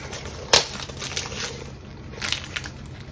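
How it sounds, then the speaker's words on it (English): Crinkly rustling and a few sharp crackling bursts as a boxed package is unwrapped close by, with no one talking. "I'm gonna unwrap it."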